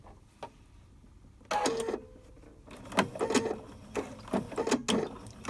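Sewing machine stitching fabric for a homemade face mask, running in several short close bursts of whirring and clatter with brief pauses between them and no talk.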